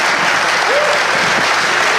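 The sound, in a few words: audience applause for Senator Amy Klobuchar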